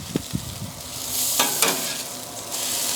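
Food sizzles on a Napoleon griddle top while a spatula scrapes and flips it, sharp metallic scrapes and taps cutting over a steady frying hiss, close and fairly loud with no talking.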